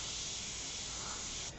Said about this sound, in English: I'm getting good flow from the airbrush